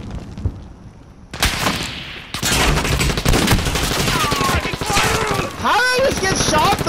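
Gunfire in a Modern Warfare team deathmatch, with loud close bursts of rapid automatic shots and heavier blasts packed together, broken by a short lull before the firing resumes and runs to the end.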